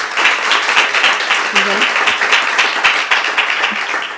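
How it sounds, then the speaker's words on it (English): Audience applause for a woman presenter at the Startup Olé 2021 onsite pitch competition, steady dense clapping over about four seconds with a brief voice murmuring underneath. "Okay, so an applause for her."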